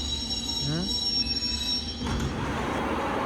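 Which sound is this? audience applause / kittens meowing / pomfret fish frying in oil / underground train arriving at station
underground train arriving at station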